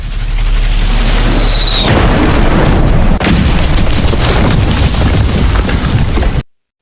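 A ground-shaking explosion from the film Synchronic hits as a heavy, close, deep boom that rolls on as a loud rumbling roar for several seconds before cutting off abruptly.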